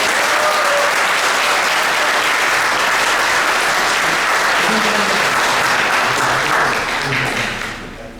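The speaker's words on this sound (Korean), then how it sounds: "우리 이창민 목사님 오실 때 우리 박수로 환영해 주시겠습니다." A church congregation gathered for a live-streamed retreat service applauds to welcome a pastor. The clapping is dense and steady, fills the room for about seven seconds, then fades away toward the end.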